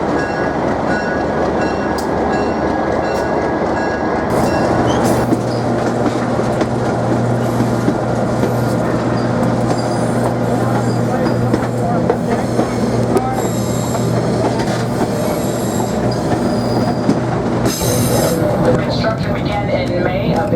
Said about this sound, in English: We're actually going to pick up the train